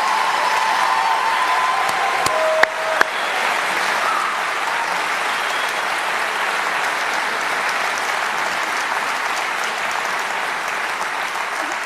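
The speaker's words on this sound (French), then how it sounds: "encore un tonnerre d'applaudissements pour les 8 finalistes 2023" Thunderous applause from a crowd for the eight finalists at a Mirabelle Queen election evening, a dense, even roar of clapping that holds steady and loud, with a few sharp clicks near the start.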